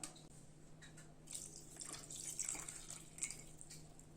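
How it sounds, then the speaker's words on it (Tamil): Milk poured into cooked raw rice in a pot while making Tamil-style pacharisi paal payasam, a soft, close liquid trickle and splash that swells in the middle and tapers off, with no talking. "இப்ப இதுல பால் சேர்த்துக்க போறேங்க."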